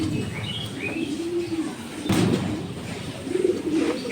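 Racing pigeons coo in a loft, repeated low rolling calls rising and falling close by, with faint chirps and a brief thump in the middle and no speech.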